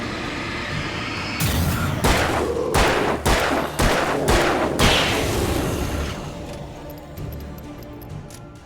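Loud gunfire in a video game: a rapid burst of six or seven sharp, booming shots in quick succession, followed by a fading rumble and a few fainter distant pops.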